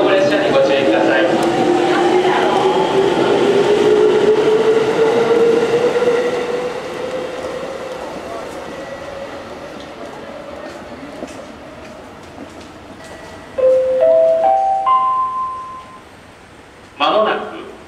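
A train pulls away from Kasadera Station in Japan with a rising electric motor whine that fades over several seconds. A few rising chime tones follow near the end, in a quiet station setting.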